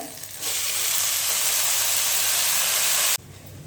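Tomatoes sizzle and fry in a hot pan for tomato chutney, following urad dal, chana dal and red lentils, a loud steady hiss that starts abruptly, holds evenly and cuts off near the end.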